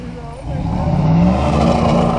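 A truck drives hard into a deep mud hole while muddin', its engine roaring and building in loudness with a churning, straining rumble, close and loud, with voices talking over it.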